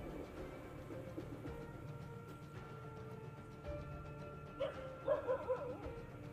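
A dog barks faintly at a distance in a few short, high yips toward the end, over a steady low background hum.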